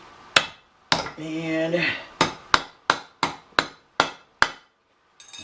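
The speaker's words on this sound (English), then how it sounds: "I'm gonna hammer it and just screw down" Hammer blows flatten a metal bracket for a car oil catch can on an Eclipse 2G, about nine sharp, close strikes in a steady rhythm with a brief scrape between the first few, no talking.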